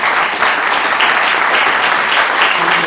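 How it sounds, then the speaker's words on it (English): An audience at a talk on marijuana legalization gives loud, continuous applause, a thick steady roar of many hands clapping close by for the whole stretch. "So I would like to applaud you for coming."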